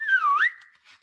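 A single clear whistle from a man calling his sleigh team of reindeer, rising then gliding into a steady sustained tone before fading, heard alone in a quiet Christmas Eve scene.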